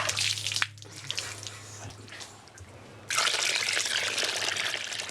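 Freezing water splashes and pours as a person rinses off outdoors in Bangladesh, with a loud gushing burst, a quieter trickling stretch over a low hum, then heavy splashing again.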